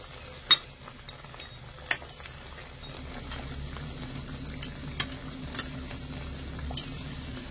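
Semolina jalebi deep-frying in oil on high heat, a low, even bubbling that swells midway, punctuated by several sharp clinks of a utensil against the pan.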